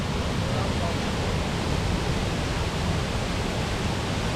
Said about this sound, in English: Perfect waterfall.